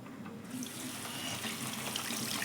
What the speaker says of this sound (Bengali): এই যে এখন আমি ধুয়ে দিচ্ছি